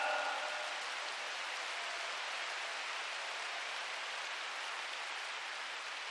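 An audience applauds at a women's assembly, a steady wash of many hands clapping that fills the whole stretch evenly, with no speech over it.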